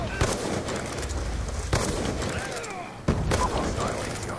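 Grenades burst in Black Ops 2 gameplay, sharp booming blasts at about 0.2, 1.7 and 3.1 seconds over a rumbling, crackling battlefield din.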